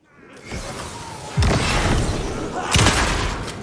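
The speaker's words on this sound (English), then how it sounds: "guns feel great to fire, especially the shotgun" Shotgun blasts in the video game Alan Wake 2: two heavy, booming shots about a second and a half apart, each followed by a loud rumbling tail over a constant bed of background noise.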